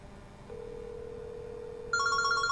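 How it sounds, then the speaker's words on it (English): A Yealink W52P cordless DECT handset rings during an internal extension call: a steady tone followed by a brighter trilling ring pattern, close and clear over faint room hiss. "So this one's ringing."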